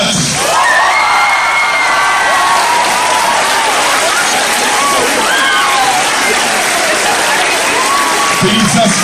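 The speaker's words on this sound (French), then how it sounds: "Je vous invite à applaudir chaleureusement la promotion 2024." Audience at a 2024 graduation ceremony breaks into sustained, loud applause with cheers and whoops, a dense wash of clapping that continues unbroken throughout.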